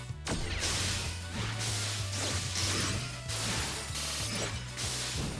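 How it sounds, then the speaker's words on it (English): Ice attacks in the fighting game Touhou Hisoutensoku burst in repeated crashing, glassy shattering bursts, about half a dozen loud smashes over a low, pulsing game music bed, with no talk. "it just sounds like a bunch of glass breaking, though"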